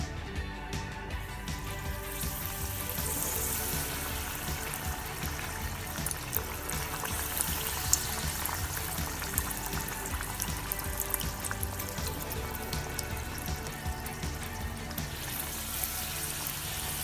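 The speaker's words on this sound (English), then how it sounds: "Now we're going to put it in the oil. Now we're going to fry them." Vegetable spring rolls wrapped in phyllo pastry frying in hot oil, a faint steady crackling sizzle with scattered pops, continuous and close throughout.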